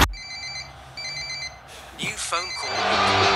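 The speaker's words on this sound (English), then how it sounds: "New phone call." A phone call ringtone in the EA Sports FC 25 football video game: repeated electronic ringing pulses in two bursts, loud and close, then a voice speaks as game sounds swell.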